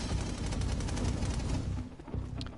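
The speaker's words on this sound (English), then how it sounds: "Just the generic sounds of gunfire." Rapid bursts of gunfire in the video game Infamous Second Son, with dense, loud overlapping shots and booms in an urban Seattle setting, thinning briefly near the end.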